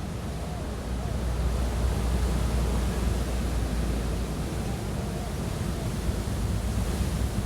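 Ocean waves wash in a continuous broad roar of surf, a steady rushing hiss with gentle swells in loudness, heard alone without voices.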